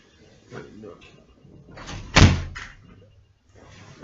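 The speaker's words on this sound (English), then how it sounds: "This door's not staying closed." A single loud, sharp slam as a door swings shut indoors, with someone talking before and after it.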